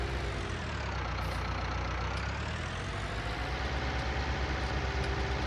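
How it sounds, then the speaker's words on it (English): A modded tractor engine idles in a farming video game, a steady, low, continuous rumble at close range with no speech. "And we're back with a new tractor."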